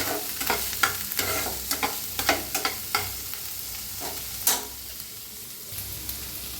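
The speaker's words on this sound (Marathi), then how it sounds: "तर भाजून घेऊया कांद्याला." Sliced onion frying in hot oil with cumin seeds and asafoetida, a loud close sizzle broken by repeated sharp scraping strokes of a spoon against the pan, roughly one every half second, with no talking.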